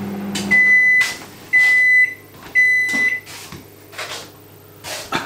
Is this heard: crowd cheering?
no